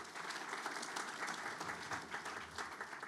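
A chamber of commerce audience at a State of the City event applauds council members, steady dense clapping from a large crowd heard at a distance, even and sustained throughout, with no voices over it.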